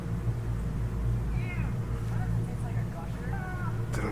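A mischievous house cat gives a few short, faint meows over a constant low hum of background noise.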